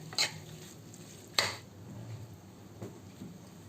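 Fried egg and Maggi noodles stirred together in a pan, a few scraping clinks of the utensil against the metal over a soft sizzle, close by and without voices.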